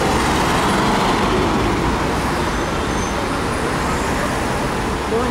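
Busy downtown Shanghai street with cars, bicycles and scooters passing, a dense, loud and continuous roar of road traffic with no clear voices.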